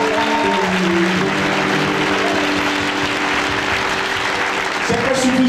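A church congregation applauds in steady, sustained clapping that fills the space, with voices and singing mixed in beneath the applause.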